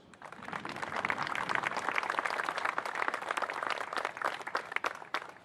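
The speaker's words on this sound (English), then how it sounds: "Round of applause" Outdoor applause from a Memorial Day parade crowd for scout troops and a high school band, scattered individual claps building into a moderate, uneven round at some distance.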